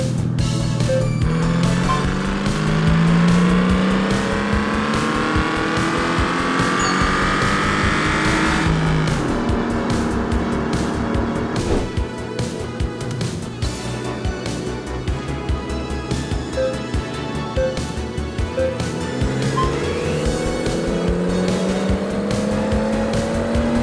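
A diesel Audi R8 TDI supercar accelerates hard in a drag race, engine note rising loud and continuous through repeated gear changes, with tire squeal and a close, sustained roar throughout.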